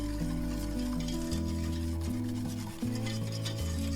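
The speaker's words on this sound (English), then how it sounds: "Just whisk everything well." A whisk runs continuously through pudding ingredients and sugar in a pot, a steady close scraping and swishing, with a low tonal hum underneath.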